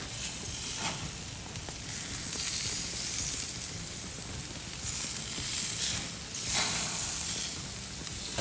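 Lamb chops for karahi sizzle steadily on a hot grill, a continuous crackling hiss that swells and fades slightly, close and alone with no talking.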